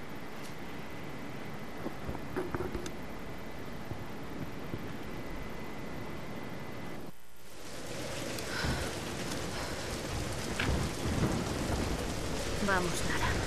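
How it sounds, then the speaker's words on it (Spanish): Rain and a rolling thunderstorm in the video game Tomb Raider Definitive Edition on PS4, a steady wash of rainfall that swells after a brief drop-out, with low rumbling underneath. "Nos acercamos a la tormenta."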